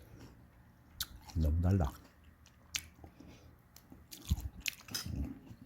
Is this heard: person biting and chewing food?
yes